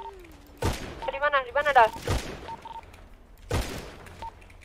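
Gunfire in GTA V roleplay: a few sharp, loud shots spread across the moment, with a player speaking briefly in between.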